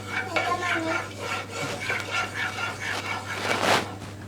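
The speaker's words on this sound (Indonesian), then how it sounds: "Kita tumis bumbunya." Spice paste sautéing in a little oil for shredded tuna floss, with a spoon scraping and stirring against the pan in steady strokes under a low sizzle, close by and moderately loud.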